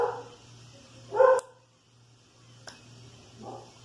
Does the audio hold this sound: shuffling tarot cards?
no